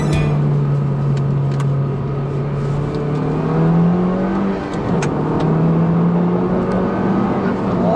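A Honda Civic Type R hot hatch driven quickly, its engine holding a steady droning note that rises and dips through gear changes, heard from inside the car without talking.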